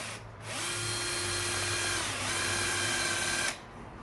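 A power drill whirs steadily for about three seconds, its pitch shifting slightly as it bites through a plastic armrest part for a Suzuki Swift, then stops.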